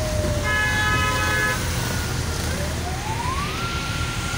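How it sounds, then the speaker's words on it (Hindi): A loud siren wails nearby over traffic noise, with a brief horn blast and a tone that rises and holds, like a passing ambulance. "ये एम्बुलेंस आ रही है ना"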